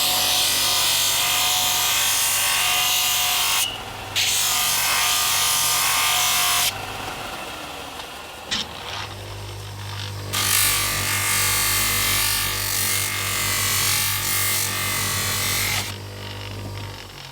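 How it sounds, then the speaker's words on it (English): A small linisher belt sander grinds and shapes an antler knife handle, a loud, steady abrasive whine with short pauses where the piece lifts off the belt before contact resumes. "draw a finger guard, and then more or less just shape it up on this little linisher here"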